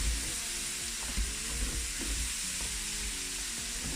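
Sausages frying with tomatoes and onions for rougail saucisse, a soft continuous sizzle broken by repeated stirring scrapes and taps of a utensil against the pan.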